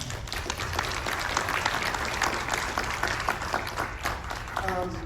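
Audience at a horror film convention panel for Terrifier claps and cheers steadily for several seconds, a dense wash of applause with crowd voices mixed in and a brief whoop near the end.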